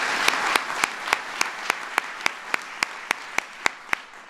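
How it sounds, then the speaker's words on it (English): Applause from a room full of mayors at a gathering on ending veteran homelessness, a dense steady wash of clapping with a few sharper, louder claps standing out at regular intervals. "clap for that"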